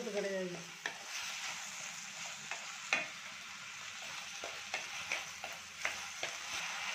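Tomatoes sautéing in a pan for a village-style horsegram chutney, a soft steady sizzle punctuated by occasional light taps and scrapes of a spoon stirring, fairly faint and close with no talking.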